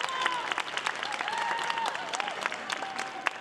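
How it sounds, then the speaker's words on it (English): Audience applause at an arts event for a Haudenosaunee pottery demonstration, a steady wash of many hands clapping throughout, with faint voices mixed in. "big round of applause"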